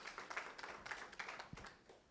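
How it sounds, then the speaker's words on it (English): A few people clap for presenters in an online breakout session, a quiet, thin spatter of claps lasting a couple of seconds. "A round of applause."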